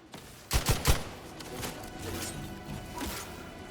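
Sniper rifle fire in the video game The Outer Worlds 2: three sharp, loud shots in quick succession, followed by a fainter report and low game ambience.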